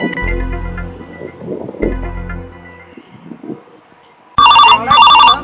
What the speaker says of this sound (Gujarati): આ શેઠનો ફોન આવ્યો